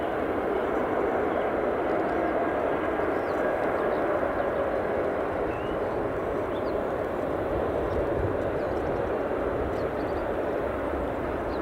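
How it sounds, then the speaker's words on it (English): An EasyJet Airbus A319 jet departs Edinburgh Airport for Amsterdam, its engines making a steady, broad roar that holds at a constant level throughout, with a faint high whine above and no talk. "Looks like the EasyJet Amsterdam flight, A319, is on its way"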